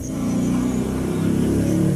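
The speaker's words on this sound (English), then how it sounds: "That was a motorcycle passing under my balcony." A motorcycle roars close by, passing beneath a balcony, its low engine drone holding steady before easing slightly, with no voices.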